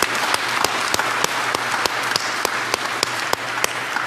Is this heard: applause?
yes